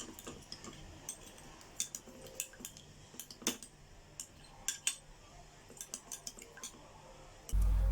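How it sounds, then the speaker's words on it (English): Honey, apple cider vinegar and oils being stirred together for a face mask, light ticking clinks of a utensil against a small bowl in an uneven rhythm, soft and close, with a thump at the end. "Need to incorporate them together by mixing them very well."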